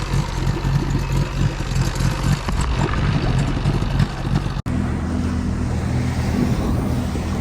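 A Triton bass boat runs across the water with a steady engine drone under heavy wind buffeting and splashing hull noise, loud and continuous, then a brief cut to a slightly calmer engine hum.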